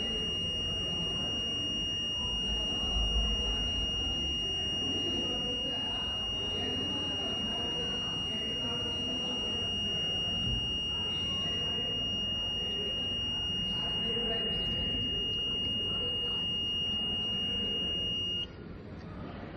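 A steady high-pitched electronic buzzer from a student-built electrical voltage monitoring project drones continuously, then cuts off near the end, over a noisy background hum.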